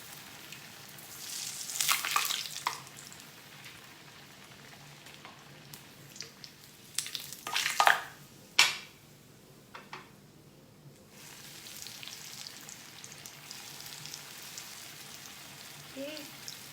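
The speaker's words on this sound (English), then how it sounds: "Just deep fry these" Food deep-frying in hot oil at home gives a soft, steady sizzle with brief louder crackling bursts, fairly close and low in level, with no talk over it.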